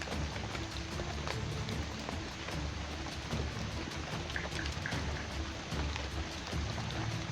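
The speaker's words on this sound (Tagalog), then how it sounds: "Dito po mga tol is ulan." Rain falls steadily and densely outdoors, a continuous hiss with scattered drop impacts and a low rumbling undertone, no voices heard.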